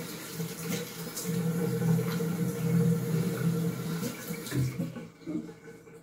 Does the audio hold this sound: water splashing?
yes